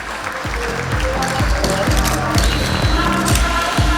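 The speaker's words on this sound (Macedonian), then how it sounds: "Еден огромен аплауз ве молам" Audience applause at an inclusive dance performance, a dense, steady clapping from a large crowd lasting throughout, loud and close.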